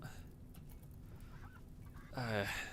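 Ducks honking and quacking in the colony sim Rimworld, where one duck has caught fire; a burst of loud, harmonic honks comes in near the end over steady game ambience.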